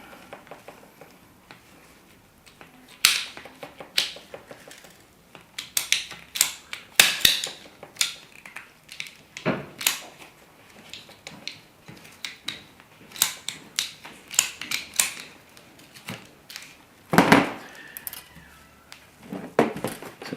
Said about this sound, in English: just tidy the end up using a pipe cutter